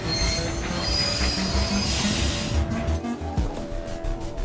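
Train wheels squeal loudly against the rails over a heavy rumbling ride, then give way to rhythmic clacking as the carriage rolls on.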